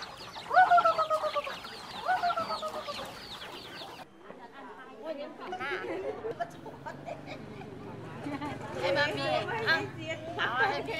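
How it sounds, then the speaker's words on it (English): Chickens clucking on a farm in Vietnam: repeated clucks and squawks, fairly close, under someone talking through most of the clip, with other livestock and farmyard sounds in the background. "Jilin feeds the chickens and the ducks"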